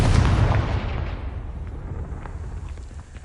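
A Confringo fire spell blasts in the Hogwarts Legacy video game, a loud, heavy explosion boom at the start that fades into a rumbling tail with faint crackles.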